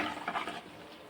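Chili powder being stirred into curry in a pan by a mother: a quiet, brief scraping and patter of a spoon moving through sizzling food, fading after the first half second.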